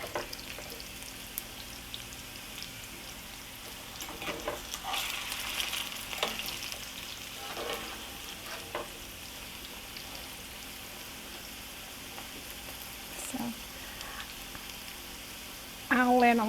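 Smoked sausage and browned potatoes fry in a pan with a steady low sizzle, broken by a few sharper crackles and stirring scrapes, with a brief louder clatter at the very end.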